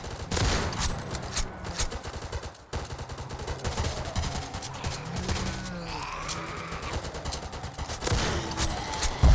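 Sniper rifle fire in the Roblox game Zombie Uprising: loud, dense bursts of gunshots crackle almost continuously, blending into a rapid barrage with brief gaps and game effects underneath.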